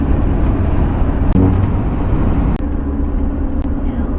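Car cruising along a remote desert road in Utah on the way to Escalante, a loud, steady interior rumble of engine and tyres with a few brief thumps and no clear talk.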